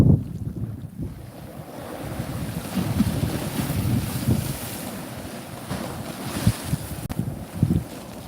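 Waves splash against a seawall on a promenade, rolling surges and sprays over strong wind buffeting the microphone, with occasional sharper hits.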